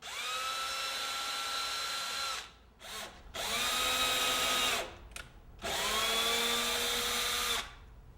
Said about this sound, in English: I like to mark my drill bits with tape before I pre-drill to make sure that I'm drilling at the proper depth